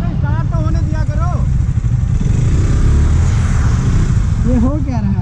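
A sport motorcycle engine runs with a loud, rough, continuous rumble that swells slightly midway, while people talk over it at the start and again near the end.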